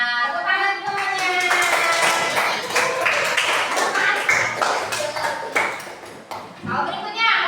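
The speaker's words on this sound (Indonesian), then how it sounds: "Tepuk tangan semuanya." A primary school class bursts into rhythmic hand clapping, with children's voices calling out loudly over the applause throughout.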